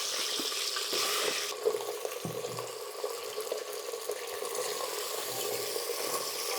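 Potatoes sizzle in hot oil for a Kashmiri potato and bean curry, a steady close frying hiss that is loudest at the start and then settles into a softer, continuous crackle with no talking.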